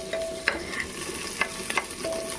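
Onions and chilies frying in a pan and being stirred, with an even sizzle and several sharp scraping strokes close by.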